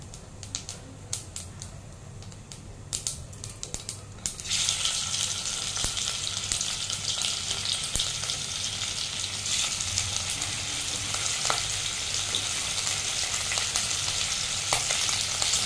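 Two hilsa fish frying in hot oil with nigella seeds give a loud, steady sizzle that jumps up sharply around four seconds in, after quieter crackling, and continues without speech.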